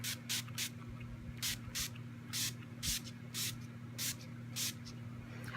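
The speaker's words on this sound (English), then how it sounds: "I'm going to use my Urban Decay setting spray, my all-nighter" An Urban Decay All Nighter setting spray, in travel size, is pumped onto a face in about nine short, crisp misting bursts, evenly spaced and close, with a faint steady hum underneath.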